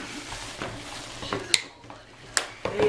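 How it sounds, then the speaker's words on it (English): Ground hamburger meat being mixed by hand in a bowl for smoked burgers, heard as soft squelching and a few sharp clinks against the bowl over a few seconds. "You notice he's mixing, he's flipping the meat"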